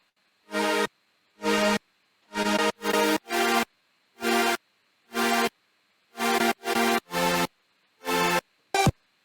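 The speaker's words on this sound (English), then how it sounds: "I'm gonna play the synth and then I'm gonna play it with the white noise" Short synth notes layered with white noise play in a choppy, uneven rhythm, each blended with a bright hiss, separated by silence.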